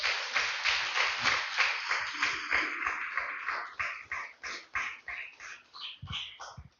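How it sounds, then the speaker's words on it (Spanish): A church congregation claps loudly and steadily in unison, with the rhythmic beat slightly loosening toward the end. "Den un fuerte aplauso al Señor"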